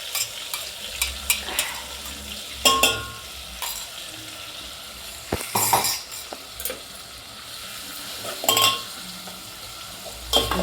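Onion for a crab curry fries in a pan with a soft, steady sizzle, broken by repeated clinks and scrapes of a spatula stirring against the metal, close and without speech.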